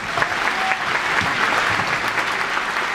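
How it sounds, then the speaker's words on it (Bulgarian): Applause from a crowd at a farewell ceremony for former Lokomotiv players, a dense steady wash of many hands clapping for several seconds, with no talk over it. "Нека да ги изпратим с аплодисменти."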